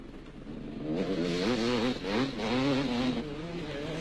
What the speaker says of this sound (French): Giovanni Sala, il pilote ici en pleine puissance.